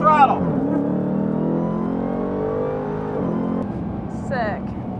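A drag race car launches at full throttle during an NHRA drag racing school licensing run, its loud, steady engine drone holding strongly throughout, with brief voices near the start and end.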